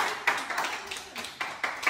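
A small group claps at a Teachers Day celebration with students, a fairly quiet, uneven run of hand claps in loose bursts with no talking.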